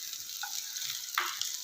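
Ginger-garlic paste, onion and peeled almonds fry together in a pan for a chicken karahi, a soft continuous sizzle with a couple of faint clinks from stirring.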